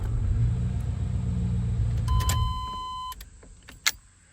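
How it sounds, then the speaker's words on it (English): A 1994 Chevy OBS truck engine with a freshly swapped distributor and ignition coil and timing slightly off idles roughly with a loud, close, uneven rumble, then cuts off, followed by a whine and a few clicks. "Just kind of idling, kind of rough"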